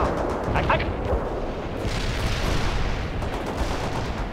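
Artillery fire in the strategy game World in Conflict: a dense, continuous roar of booming shells and crackling gunfire that fills the whole stretch, with faint radio-style unit voices mixed in.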